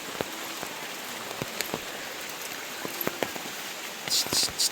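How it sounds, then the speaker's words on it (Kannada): Rain falling on a surface near a small ditch, a steady patter with scattered louder drips and taps, plus a brief rustling burst near the end. "ಮಳೆ ಬರೋವಾಗ."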